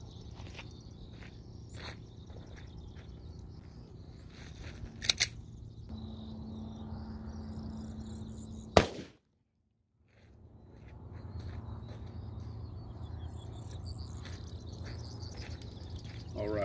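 A Glock 31 pistol fires a single .357 SIG round into ballistics gel from about 15 feet: one sharp, loud report cuts through steady background noise midway, followed by a brief near-silence.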